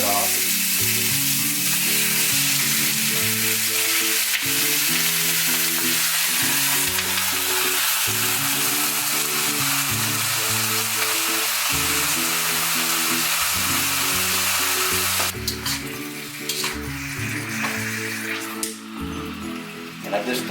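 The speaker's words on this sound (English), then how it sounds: "I'm going to get about a tablespoon of sesame oil into our wok, and I'm just going to drop the lamb in there" Lamb sears in about a tablespoon of sesame oil in a hot wok, loud continuous sizzling with a pitched tone running underneath, then some scraping and stirring toward the end.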